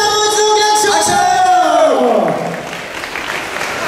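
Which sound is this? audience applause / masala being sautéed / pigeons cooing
audience applause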